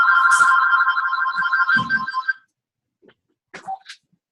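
A telephone rings with a steady electronic tone for about two seconds, then cuts off, followed by a few faint clicks and handling knocks as the phone is moved.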